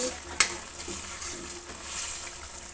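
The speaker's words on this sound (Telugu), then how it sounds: "ఉడుకుతుంది." Potatoes boiling in a pot on a stove at medium flame, a steady bubbling hiss with one small sharp click near the start; close, no talking.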